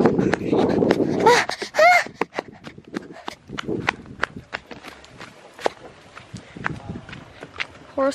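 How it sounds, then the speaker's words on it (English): Hooves clop along at a walking pace as a horse passes close by, with people talking and exclaiming over the footfalls. "Here, people passing with a horse."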